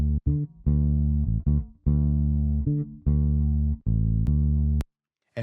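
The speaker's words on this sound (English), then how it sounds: "there's a lot of cuts where you can hear clicks" Dry bass guitar DI signal, recorded direct with no amp, playing a choppy line of short held notes, with abrupt cuts and audible clicks at the edits from fast patching in Pro Tools.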